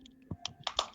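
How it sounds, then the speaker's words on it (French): Quiet computer keyboard typing: a handful of separate key clicks and taps, irregularly spaced and close by, with no voices. "Le bruit du clavier, c'est encore pire."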